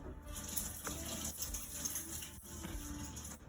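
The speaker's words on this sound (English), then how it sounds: "Let me just rinse." Tap water runs steadily over a swordfish fillet being rinsed in a kitchen sink, a close, continuous gushing splash with small shifts as the fish is moved.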